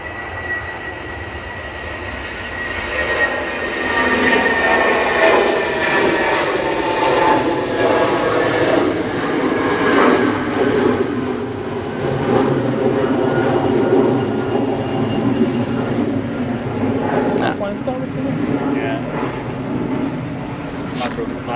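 A British Airways jet departing Manchester Airport for London Heathrow rumbles with a sustained, broad engine roar during its takeoff roll, holding loud throughout with voices faintly present.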